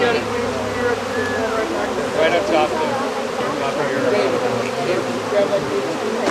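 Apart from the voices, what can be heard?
honey bees buzzing around a hive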